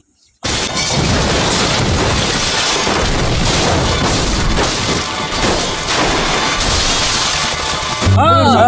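Car accident crash, a sudden loud smash of shattering and crunching debris that bursts in after a moment of quiet and keeps rattling and clattering for several seconds.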